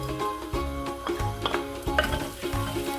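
Garlic sizzling in hot cooking oil in a pan, a steady bright crackle close up, with repeated stirring scrapes and soft clanks roughly every half second, no talk.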